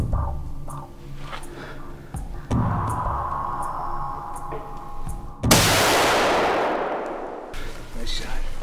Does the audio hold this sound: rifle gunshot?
yes